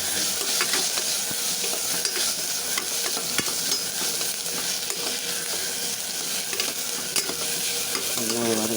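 Ginger and garlic sauté in a hot pan, the oil sizzling continuously while a utensil scrapes and taps the pan in repeated stirring strokes, close and fairly loud.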